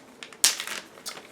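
A plastic bag holding a model kit decal sheet crinkles and rustles in a few short, close handling noises, one sharper crackle standing out.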